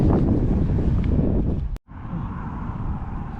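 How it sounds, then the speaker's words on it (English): Gusting wind buffets the microphone outdoors during metal detecting, a loud low rumble broken by a brief dropout, then continuing more steadily. "there's the wind"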